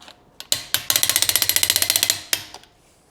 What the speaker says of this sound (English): Gotta torque the wheels.